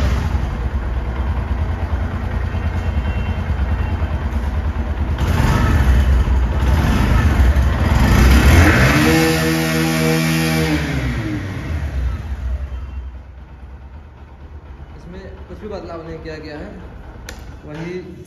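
A low-cost ABS-equipped motorcycle with an 8.6 BHP single-cylinder engine starts and runs close by, building a loud throbbing rumble with rising and falling revs before settling to a quieter idle, with someone talking over it.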